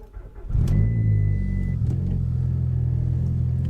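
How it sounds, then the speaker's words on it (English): A Volkswagen MK4 Golf GTI engine runs noisily just after a cold start, a steady close low rumble that settles in after a short quiet opening and holds through to the end. "On a cold start, this car's really noisy"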